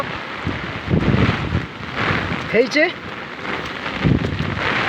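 Steady heavy rain hisses with gusts of wind buffeting the microphone during Cyclone Gulab in Odisha, while a voice speaks over it.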